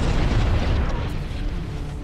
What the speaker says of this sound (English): The gravity well generator has been destroyed.